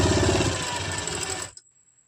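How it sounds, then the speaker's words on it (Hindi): A sewing machine stitches along lightly folded fabric for umbrella palazzo pants in a loud, close, steady mechanical run that stops abruptly partway through, leaving near silence. "पहले हमें इस तरह से हल्का सा फैब्रिक फोल्ड करते हुए पूरे में सिलाई लगा लेनी है"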